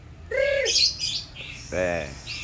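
A canary sings nearby in a short run of bright chirps and squawky calls, mixed with voices talking in the room.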